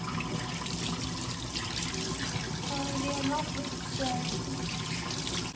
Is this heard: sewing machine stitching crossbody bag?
no